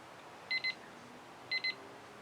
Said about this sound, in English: the timer is telling me I don't have much time left